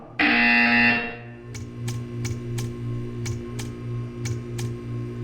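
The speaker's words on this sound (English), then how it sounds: "You will hear a buzzer. When you hear the buzzer, stare at the art." A loud electronic buzzer from the video game Portal 2 sounds once for about a second, followed by a steady hum with a row of sharp, evenly spaced ticks.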